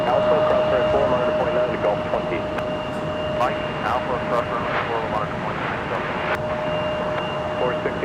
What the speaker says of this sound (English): Delta 160 Heavy with the equipment resize is about to depart runway 30 left